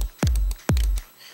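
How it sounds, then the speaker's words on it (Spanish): Two heavy kick drum hits from an FL Studio sample, spaced about half a second apart, each with a sharp click and a long booming low tail, followed by quiet; no voices. "El kick suena así."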